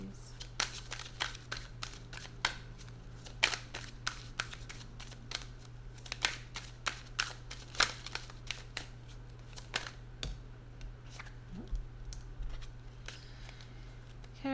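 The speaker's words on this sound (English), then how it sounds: "I'm going to keep shuffling until I get one" Tarot cards are shuffled by hand close by in a continuous run of quick, faint riffling taps and flicks over a steady low hum.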